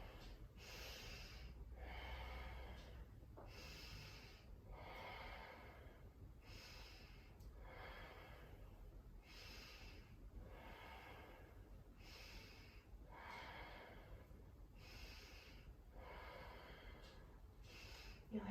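A yoga instructor breathing through a crescent lunge: slow, rhythmic, audible inhales and exhales through the nose, about a dozen even breath cycles, close and steady, with no speech.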